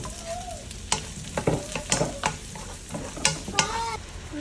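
Onion frying in butter with garlic sizzles steadily while a spatula scrapes and stirs the pan in irregular strokes, close up and fairly loud, without speech.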